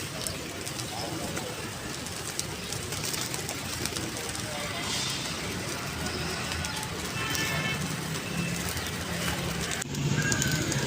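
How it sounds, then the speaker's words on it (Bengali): A large flock of pigeons feeds from a tub of grain, with soft cooing and fluttering under steady nearby human talk throughout. "এই যে এতগুলো পায়রা কতক্ষণই আর থাকবে"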